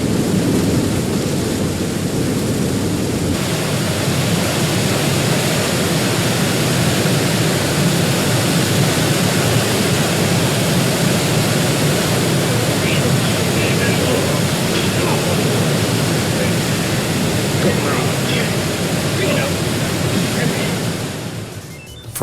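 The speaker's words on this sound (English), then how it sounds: "white water." White water rapids on the Colorado River between high canyon cliffs roar as a dense, steady rush of churning water, loud and unbroken for the whole stretch.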